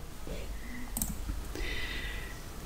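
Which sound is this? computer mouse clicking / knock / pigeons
computer mouse clicking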